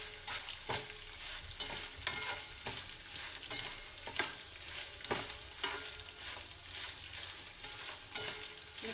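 Sesame seeds are stirred and roasted in a pan for a red chili and tamarind chutney, giving a continuous close sizzle broken by regular scraping strokes of the spoon, with no talking.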